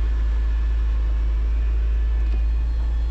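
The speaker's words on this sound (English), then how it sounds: "And cab top comes up." The powered convertible top of a parked Porsche Carrera 4 Cabriolet raises with a steady, close electric-motor hum and a deep drone underneath, constant throughout, with no talking.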